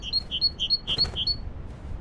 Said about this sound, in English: A little chirp chirp bird.